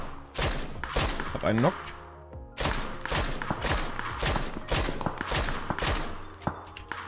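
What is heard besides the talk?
gunfire in the video game PUBG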